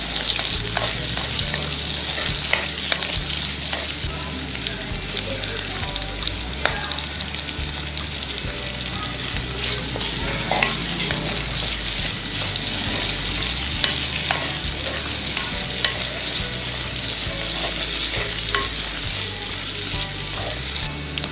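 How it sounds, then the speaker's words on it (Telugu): Onions and curry leaves fry loudly in a pan, giving a steady close sizzle with bursts of crackle and occasional stirring scrapes that run without pause throughout. "ఇప్పుడు కొంచెం పెద్ద ముక్కలుగా తరిగిన ఆనియన్స్ అలాగే కరివేపాకు వేసుకొని ఆనియన్స్ రంగు మారే వరకు ఫ్రై చేసుకోవాలి"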